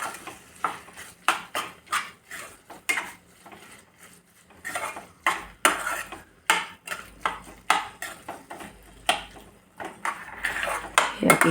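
Metal utensil clinks and scrapes against a pan, a quick irregular series of clatters and taps, while paneer bhurji is stirred with garam masala; close and fairly loud, with a brief quieter pause in the middle.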